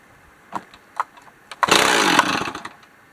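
A 026 chainsaw is started with the choke on: a couple of faint clicks, then a loud sputtering burst of engine firing that lasts about a second and dies away. No talking.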